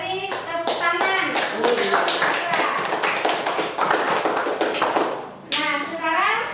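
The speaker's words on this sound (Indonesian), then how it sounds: "Kita beri tepuk tangan." Schoolchildren in a classroom clap their hands together in a rhythmic, patterned sequence of sharp claps, with children's voices chanting along over the beat.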